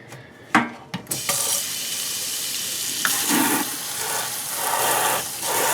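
A dirty turntable mat from a Dual 506 turntable rinsed under a running tap: a few knocks and clunks at the start, then a steady, loud rush of water splashing over the rubber.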